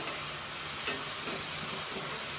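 Gentle sizzling from a pan of frying raw masala paste for chicken curry, a soft steady crackle with faint stirring scrapes, fairly quiet and close.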